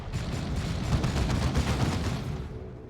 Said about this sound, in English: Taking some bolter fire from the Rhino, which does have the heavy bolter on it.